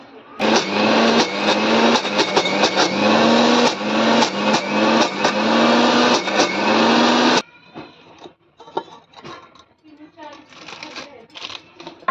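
A mixer grinder churns lentils with cumin, garlic, red chilli and salt into a coarse paste, a loud whirring motor with rhythmic bumps for about seven seconds, then stops, leaving faint clatter and handling noises.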